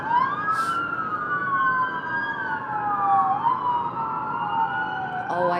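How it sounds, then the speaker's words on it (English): Emergency vehicle sirens wail along the Las Vegas Strip, heard from a Cosmopolitan hotel balcony at sunrise, several sweeping tones rising and falling loudly over steady city traffic rumble, with a brief yelp burst near the end. "It's just not a Vegas live stream without sirens"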